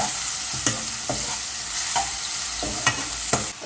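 Capsicum and carrot stir-frying in hot oil for street-style chicken noodles, with a steady close sizzle and several sharp clanks of a spatula or ladle striking the pan at irregular intervals.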